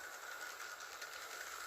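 A Hornby model passenger train runs downhill on a temporary layout, giving a steady, close whirring rumble with a faint rhythmic clatter throughout and no talking.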